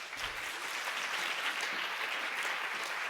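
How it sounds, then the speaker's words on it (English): Steady applause from an audience at the Study Hall Summit 2020, a broad even wash of clapping at moderate distance that holds without a break. "Please give a round of applause for Sasha."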